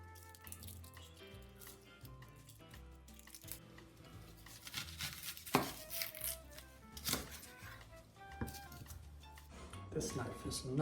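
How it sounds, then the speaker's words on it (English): A knife chops an onion and slices red cabbage into fine shreds, giving soft, irregular cutting taps on a board, with running water and kitchen clatter nearby and a voice talking at times. "I'm going to chop the onion and I'm going to madeleine in fine slices the red cabbage"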